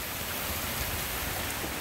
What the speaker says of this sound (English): It's raining so hard, the gutter can't take it.